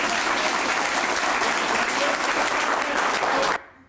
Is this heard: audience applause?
yes